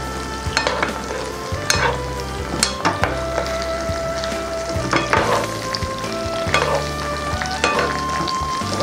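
Marbled beef steak sizzles steadily in a pan while being basted with spiced butter, with repeated sharp spoon clinks and spattering bursts over the continuous close frying hiss.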